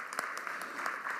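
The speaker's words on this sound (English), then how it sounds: "Big round of applause." An audience at a school district State of Schools event gives a short burst of steady clapping, moderately loud and continuous with no voices over it.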